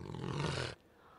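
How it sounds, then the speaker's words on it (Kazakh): A leopard gives one loud, rough roar lasting under a second, heard up close with no other sound, then it cuts off into near silence. "қабланның қандай дыбыс шығаратынын білейік"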